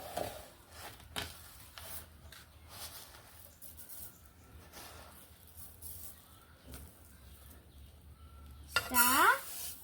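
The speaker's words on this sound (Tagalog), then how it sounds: "Pangalawa, sukatin ang bigas sa kailangan." Uncooked rice is measured into a cooking pot in a home kitchen, with quiet scattered metallic clinks and scraping, then a brief louder clatter near the end.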